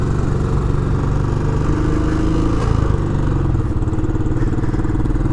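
A Royal Enfield Classic 500 motorcycle rides down a Melbourne boulevard, its engine giving a loud, continuous low thumping rumble close up with no break and no voices.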